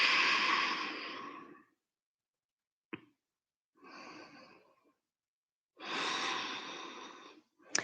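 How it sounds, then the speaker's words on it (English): A deep breath in and a long exhale during a yoga session, close and clear, the airy inhale and release repeated in slow cycles with silent pauses between. "Nice deep breath in and exhale."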